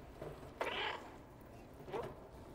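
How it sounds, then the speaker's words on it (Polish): A cat meowing in the video game Stray, two short meows about a second apart, the first louder and brighter, heard fairly close over quiet background hum. "Miałkłem."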